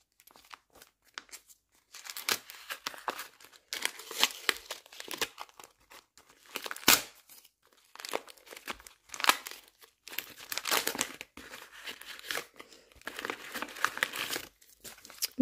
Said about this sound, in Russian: И, наконец-то, мы открываем наш пакетик большой.